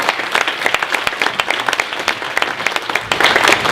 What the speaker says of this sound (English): So please, a warm round of applause for Barbara Deane.